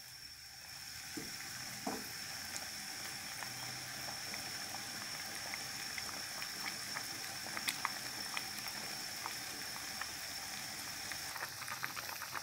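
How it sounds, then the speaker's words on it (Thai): A Thai tilapia jungle curry with fermented fish sauce bubbles steadily in a pot, giving a constant close simmering hiss with scattered pops and soft clinks and no talk. "เดือดแล้วนะคะ"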